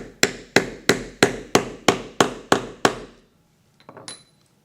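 Nine evenly spaced sharp hammer taps on a setting tool, fixing a snap fastener stud into leather over an eyelet, each a crisp close knock with a short decay, followed by quiet and a faint click of the snap.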